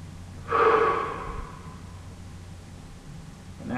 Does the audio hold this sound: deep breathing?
yes